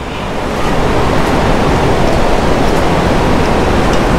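Strong wind buffets the microphone on a beach where surf rolls in, a loud, constant roar of gusts and breaking waves with no voices.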